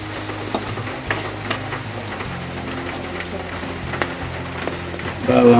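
Garlic frying in hot oil in a kawali, a steady close sizzle with occasional spoon taps and stirring scrapes, swelling louder at the end.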